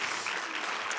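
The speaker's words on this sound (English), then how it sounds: "give a round of applause." Audience applause at a women's leadership case competition, a steady dense patter of clapping that fills the whole short stretch without any talk.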